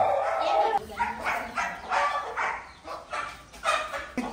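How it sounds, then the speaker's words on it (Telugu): A dog on a farm barks in a quick series of short, sharp yelps at moderate distance, with a voice speaking alongside. "ఇది వచ్చేసి డాగ అనుకోండి, డాగ"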